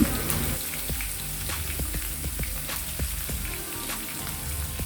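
Crushed garlic, green chilli and ginger frying in hot oil for a lemon pickle, with a steady dense sizzle and crackle and occasional small pops, close and continuous.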